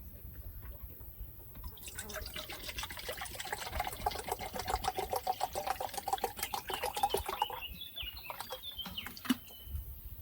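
Liquid silicic acid pours into a one-litre container until it is about half full, a steady close trickling splash lasting several seconds before it tapers off. No one speaks.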